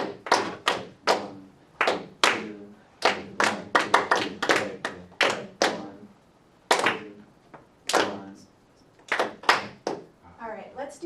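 A group of students claps out an eighth-note rhythm exercise in a classroom, with sharp, evenly spaced claps in short bursts and brief pauses between phrases, fairly close and distinct.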